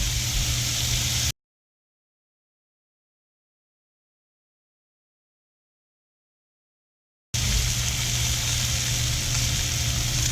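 Ribeye steaks fry in a pan with a steady, loud sizzle. A stretch of total silence interrupts it midway before the sizzle resumes.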